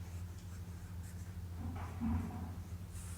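Handwriting a chemical formula, a faint, close scratching of pen strokes over a low steady hum, in short bursts with one slightly firmer stroke midway, with no speech.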